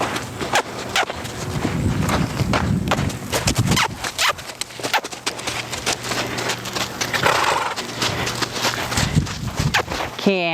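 Hoofbeats of a horse working at liberty in a canter, a steady rhythmic clip-clop thudding near and loud throughout, with some background voices and rustle.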